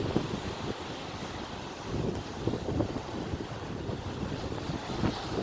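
Steady wind buffets the microphone with a constant roar at Wollongong City Beach, and surf may wash in the background; no one speaks.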